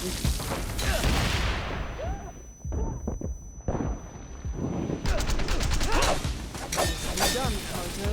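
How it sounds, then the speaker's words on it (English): Gunfire and explosive blasts in the action video game Wanted: Dead, including a grenade going off. The shots and booms repeat in busy bursts over a dense game soundtrack, and a voice talks through the fight. "Grenade!"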